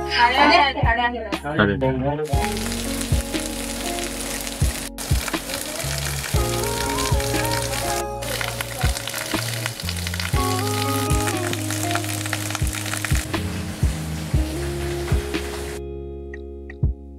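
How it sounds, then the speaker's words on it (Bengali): Heavy, continuous morning rain at Mandarmani near Digha makes a steady, dense hiss from start to finish, with sustained tonal sounds and some voices layered over it. "কিন্তু এখন প্রচণ্ড বৃষ্টি হচ্ছে, এখনো থামেনি।"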